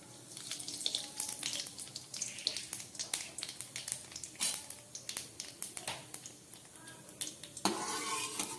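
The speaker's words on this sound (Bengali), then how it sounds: "এবারে দিয়ে দিচ্ছি এই যে কিছুটা কালো জিরে আর মৌরি ফোড়ন দিলাম।" Black cumin and fennel seeds tempering in hot white oil, a soft crackling sizzle with scattered pops and stirring clicks, fairly quiet, with no talking.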